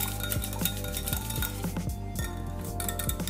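Red wine vinegar and oil are whisked hard in a bowl to emulsify a dressing: quick, close, repeated metallic clinks of the utensil against the bowl, steady and rhythmic, with no talking.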